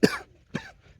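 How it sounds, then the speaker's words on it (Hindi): Two short, fairly quiet coughs from a person, about half a second apart, with near silence between and after them. "खांसी आ गई"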